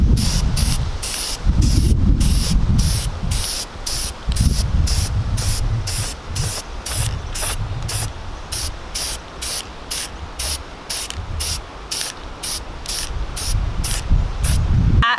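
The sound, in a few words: spraying wood stain from aerosol can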